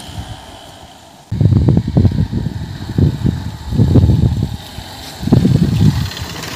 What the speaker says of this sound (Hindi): और तेरी भाई ने तो डैम पे बाइक चला दी।